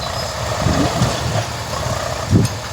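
A loaded tractor or similar heavy vehicle reverses with its diesel engine rumbling low and near, broken by a couple of brief thumps and surges in the idle.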